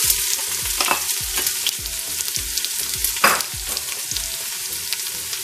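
Onions fry in a pan of oil for a goat paya recipe, hissing steadily close by while a spoon stirs and scrapes at a regular rhythm. One louder clatter lands midway and nobody talks.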